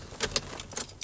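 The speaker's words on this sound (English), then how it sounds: "we can put the ignition on" Keys jangling as a van's ignition is switched on, a few brief, close metallic clinks and rattles.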